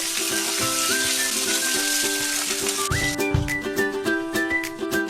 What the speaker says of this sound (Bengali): তো এই দেখো বেগুনি ভাজা প্রায় হয়ে গেছে।